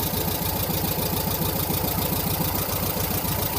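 VW Combi van engine, an air-cooled unit without a radiator, runs at a steady idle with an even, throbbing rumble close by and no talk.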